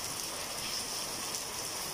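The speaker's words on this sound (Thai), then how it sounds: "ฟังเสียงฝนเพลินๆหลับเลยค่ะเด้อเสียงฝนมากล่อมนอนจ้า" Steady rain pours down outside a house in Thailand, a dense, even hiss of drops on surfaces. It continues unbroken at moderate volume with no voices.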